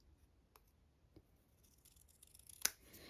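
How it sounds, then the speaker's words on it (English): Scissors make one quick, close snip through background paper during a craft project, a single sharp cut over a faint quiet room. "I'm just going to snip that bit off."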